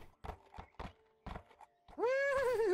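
A horse in a video game gives a loud, close whinny with a wavering, falling pitch. Several hollow thumps and hoof-like clops come first, with no speech.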